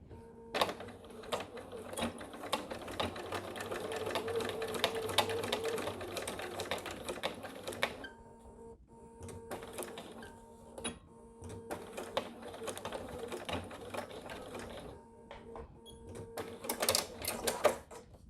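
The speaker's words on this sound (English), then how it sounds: "Now I'll go to that last edge that hasn't been stitched and just follow my previous top stitchings for the connector." A sewing machine runs in several long, close bursts of rapid mechanical whirring, top stitching the edge of a sling bag's connector, with pauses between runs and no talking.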